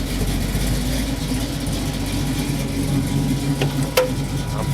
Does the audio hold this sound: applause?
no